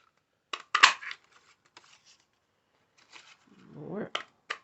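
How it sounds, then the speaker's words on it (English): Scissors snip through designer series paper for a 12 x 12 one sheet wonder craft project, giving a few short, close cutting bursts separated by pauses, with a softer rustle of paper near the end. "So I'm just going to cut a few more of these out."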